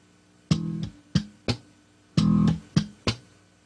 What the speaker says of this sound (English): Now you notice how the left hand creates a click.